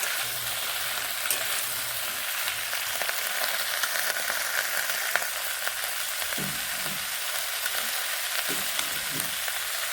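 Spring onion stalks and potatoes hiss and crackle in a pan without pause, dense frying noise with faint stirring knocks now and then, close and steady throughout.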